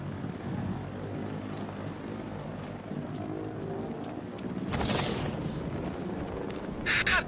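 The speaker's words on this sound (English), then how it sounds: "Helicopter there." Helicopter in the video game Batman Arkham Knight, a steady droning rotor rumble held throughout, with a brief louder whoosh near the end and no talking.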